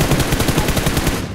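Rapid automatic gunfire in the PUBG video game, a fast steady burst of evenly spaced loud shots lasting over a second before cutting off.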